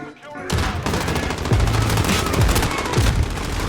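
Kar98k bolt-action rifle fire in the video game Modern Warfare Season 3, loud gunshots and their booming echoes over busy game noise, with no talking.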